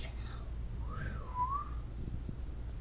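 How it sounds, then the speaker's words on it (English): A person whistles a single short sliding note, rising then dipping and rising again, faint and close over a low background hum, with no other sounds. "you're good at whistling"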